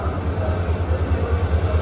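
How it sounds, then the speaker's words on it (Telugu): A shunting locomotive draws a train into platform 6 at Visakhapatnam station, a steady close rumble with rhythmic low thumps from the wheels and no voices. "6వ నెంబర్ ప్లాట్ఫామ్కి షంటింగ్ లోకోమోటివ్ ట్రైన్ అయితే తీసుకొస్తుంది"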